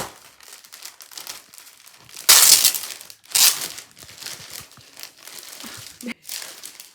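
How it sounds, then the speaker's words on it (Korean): A package comes out of a shopping bag, with close crinkling and rustling of paper and plastic. Two louder bursts of tearing or crumpling stand out among lighter handling sounds. "언박싱을 한번 시작해볼게요"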